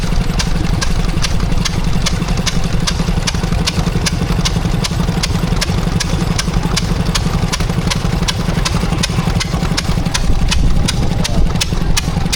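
A Lister D stationary engine runs close and loud at an outdoor engine show, with steady, evenly spaced chugging beats throughout.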